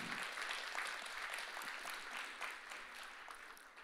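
Faint, steady clapping from a church congregation at Summit Park Church, dense and even for several seconds with no talking.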